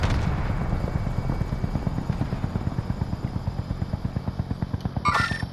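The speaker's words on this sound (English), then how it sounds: "Movement! Enemy helo!" An enemy helicopter in Call of Duty Modern Warfare thumps loudly with fast, steady rotor beats and a low engine drone, joined near the end by a brief burst of gunfire or debris.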